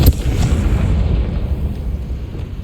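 A Confringo spell blast in Hogwarts Legacy, a sharp explosive burst at the start followed by a deep rumbling boom that lingers and slowly fades.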